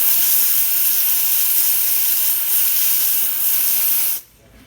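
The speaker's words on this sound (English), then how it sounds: "This machine has some powerful steam." A Vibiemme espresso machine's steam wand gives a strong, continuous high hiss that stays loud and steady for about four seconds and then cuts off abruptly, leaving a quiet room.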